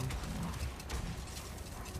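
Soft cooing of doves or pigeons in the game God of War Ragnarök, set in Alfheim, murmuring low and steady under a continuous ambient bed of game sound.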